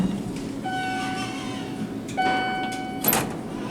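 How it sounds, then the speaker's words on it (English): A 1988 Westinghouse traction elevator door slides open at Hancock Square near Arlington Station, with sustained tonal whines and a low mechanical rumble, ending in a brief sharp clank. "I guess that's the door opening."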